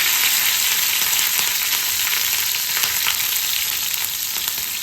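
Cut green chillies sizzle in hot oil with asafoetida for a potato curry, giving a loud, steady crackling fry that runs throughout with no voices.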